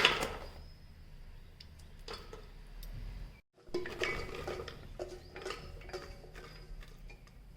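Hard jackfruit seeds clatter and tick into a metal pressure cooker in scattered bursts, with light clinks and a brief pause midway.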